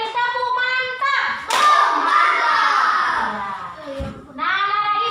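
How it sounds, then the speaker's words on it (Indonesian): Children in a classroom perform a rhythmic group clap, short patterned bursts of hand claps with a teacher's voice and kids' voices and shouts mixed in, close and lively. "ayo anak-anak kita beri tepuk mantap"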